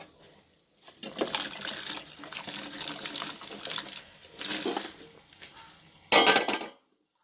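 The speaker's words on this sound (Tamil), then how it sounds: "சுடுதண்ணி சூடாகிடுச்சு, காலிஃப்ளவர் அதில் போட்டுடலாம்." Cauliflower goes into a pot of hot water on a kitchen stove, with splashing and bubbling, a few clinks against the pot, and a short sharp burst of water near the end.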